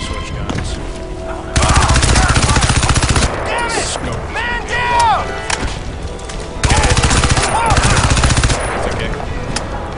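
Rapid automatic gunfire in the Crysis 2 shooter game, loud sustained bursts of machine-gun fire alternating with quieter stretches, a voice briefly audible between volleys.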